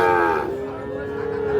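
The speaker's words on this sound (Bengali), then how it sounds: "শাহিওয়াল ষাঁড় বাচ্চা, 8 থেকে 9 মাসের মতো বয়সে।" An 8 to 9 month old Sahiwal bull calf moos once at a cattle market, a loud, close, drawn-out low call that fades and swells again over a murmur of background noise.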